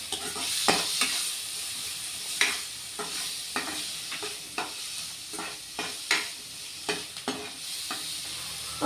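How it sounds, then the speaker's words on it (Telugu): Green chilies and mint frying in hot oil in a pan, a steady close sizzle broken by repeated stirring scrapes and clicks from a spoon, with no voices. "పచ్చిమిర్చి అయితే ఆయిల్లో మంచిగా ఫ్రై అయిపోయినాయి."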